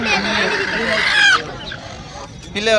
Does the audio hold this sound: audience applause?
no